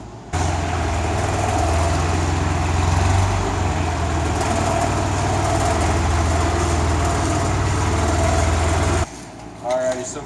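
A tractor engine rumbles steadily at idle and low speed while backing up to a Jinma backhoe, close and loud, before cutting off near the end.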